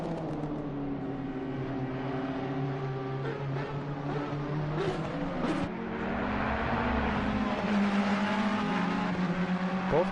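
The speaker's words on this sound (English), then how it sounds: "two Ferraris are going at it here" Two Ferrari GT race cars dueling for position at Spa in Assetto Corsa Competizione, engines droning steadily with shifting pitch as they run close together, loud and continuous throughout.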